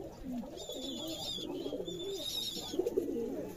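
Pigeons in a loft coo continuously in low, rolling, overlapping calls, steady and fairly close, with a thin high chirping layered above and no speech.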